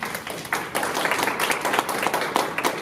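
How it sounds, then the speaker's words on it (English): Applause from a crowd at a children's empowerment summit, a steady close wash of many hands clapping, continuous and fairly loud throughout with no talk. "give yourselves a round of applause for coming out"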